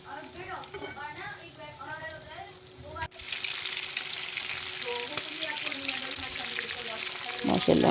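Chicken broast pieces sizzle and crackle loudly and steadily in hot frying oil, with a voice talking briefly over the first few seconds before the frying carries on alone.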